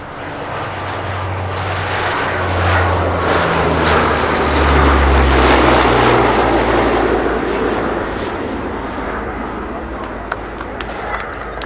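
A four-engine P-3 Orion maritime patrol aircraft flies past at the RAF Cosford Airshow, its steady turboprop drone and propeller hum loud and continuous throughout, swelling slightly in the middle, with a voice talking over it.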